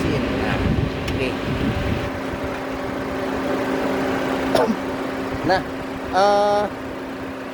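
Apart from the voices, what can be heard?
Mitsubishi Grandis 2.4 engine running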